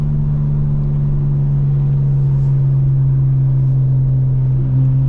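900hp 2025 BMW M4 Competition xDrive with exhaust valves open, a steady deep droning rumble from inside the car while cruising, even and continuous with no talking.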